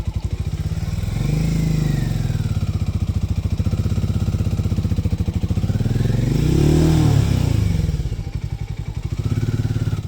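A Royal Enfield Meteor 350 motorcycle engine revs up and down repeatedly without moving off, its throaty rumble rising and falling loudly and close by, with no speech.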